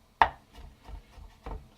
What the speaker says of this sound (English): make sure we mince them really finely